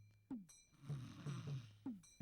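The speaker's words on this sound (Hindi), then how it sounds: "तू इस तरह से खर्राटे लेगी तो मैं कैसे सोऊंगा?" Loud snoring close by, three rasping snores in a slow rhythm with a rattling exhale between them, no speech.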